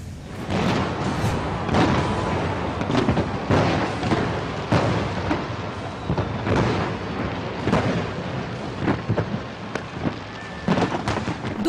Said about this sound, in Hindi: नए साल के आगाज पर मुख्तलिफ जगहों पर शानदार आतिशबाजी का मुजाहरा किया गया